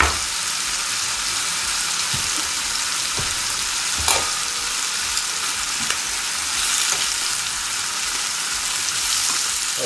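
Chicken strips browning in a hot pan for a poultry curry with coconut milk, a steady loud sizzle with occasional stirring clicks and scrapes, no talking.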